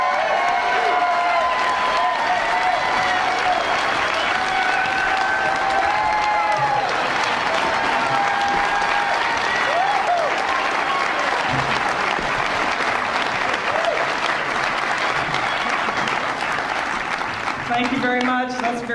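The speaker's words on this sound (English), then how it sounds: "Give a warm round of applause to Debra Medina" Long, loud audience applause with cheering for a speaker at a Nullify Now! political event, continuous clapping with whoops and shouted cheers rising over it throughout.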